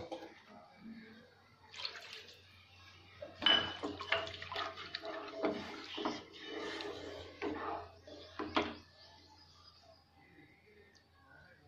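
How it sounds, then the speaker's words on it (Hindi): Water is poured into a pan of simmering masala gravy for vegetable kofta curry, sloshing and splashing in uneven bursts amid light kitchen clatter. "और थोड़ा पानी डालेंगे हम इसमें"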